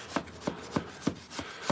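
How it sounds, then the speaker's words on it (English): Hand sanding a wooden door to remove a paint drip, heard as six evenly spaced, close scraping rubs, each a short rasping stroke with quiet gaps between. "Now I'm sanding this part down."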